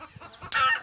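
Chickens cluck in the background at a rural property where a sawdust rocket stove is being built: soft low clucks, then a brief louder, higher squawk, fairly faint and distant.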